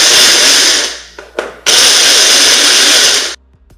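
Small cheap handheld blender whirring loudly at close range, running hard for about a second, cutting out with a couple of brief bursts, then roaring steadily again before stopping.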